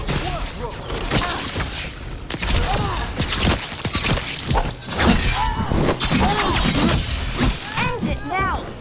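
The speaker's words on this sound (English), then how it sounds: "Shattering those chains will free the bell" Chains shattering in Dragon Age: The Veilguard, a dense run of loud crashing, breaking impacts and thuds mixed with battle noise and a speaking voice throughout.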